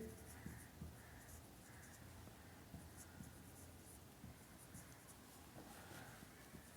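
Pen scratching on paper as accounting entries are written out by hand, a soft continuous scribble with short strokes under a low, steady hum.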